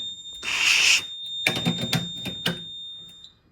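A fire alarm panel sounds a continuous high electronic tone after a smoke detector head is pulled, joined by a short hissing burst and a run of clicks and clatter close by.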